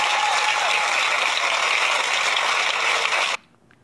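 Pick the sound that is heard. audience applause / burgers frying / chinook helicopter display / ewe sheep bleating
audience applause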